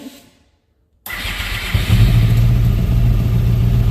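Silence, then a golf cart's small engine, fitted with Fuel Tech fuel injection and lacking idle control, cranks and catches abruptly, revving briefly before settling into a steady, loud, close idle.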